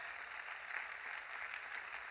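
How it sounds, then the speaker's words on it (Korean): A church congregation applauding during a Sunday worship service, a dense, even wash of many hands clapping, faint and distant, with no speech over it. "박수 치세요. 하나님께."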